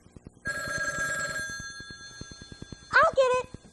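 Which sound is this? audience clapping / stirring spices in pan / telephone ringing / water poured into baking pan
telephone ringing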